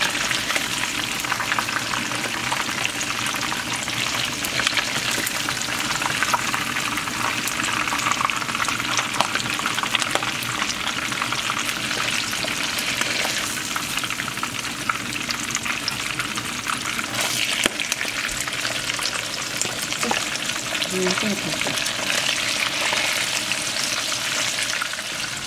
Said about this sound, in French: Ouh, là ça mijote très très bien.